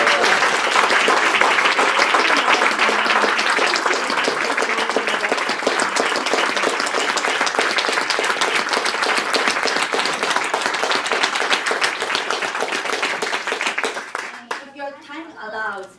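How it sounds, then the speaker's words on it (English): An audience at a Santa Monica Playhouse theatre festival gives storytellers a long, loud round of dense applause that carries on steadily before tapering into scattered claps at the end. "Let's give another round of applause to our storytellers"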